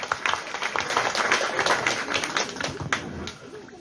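An audience at a forum on preventing teenage pregnancy applauds, clapping dense and uneven with a few sharper individual claps standing out, sustained for several seconds at moderate loudness.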